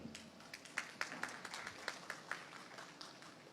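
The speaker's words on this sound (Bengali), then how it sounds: "আমরা সবাই নিজেদের জন্য একটা হাততালি দিতে পারি" Applause from an audience at a public gathering in Bangladesh: a steady crowd of clapping with sharp individual claps standing out at an even pace, moderately close and fairly quiet, with no voices over it.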